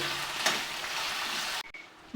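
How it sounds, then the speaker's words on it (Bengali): Beetroot pieces frying in hot oil give a steady, dense sizzle that holds close and loud, then drops off abruptly near the end, leaving quieter crackle. "তেলটা ভালোভাবে গরম হয়ে গেছে এবার দিয়ে দেবো প্রথমে বিটগুলোকে বিটগুলোকে কিন্তু ভালোভাবে ভাজবো"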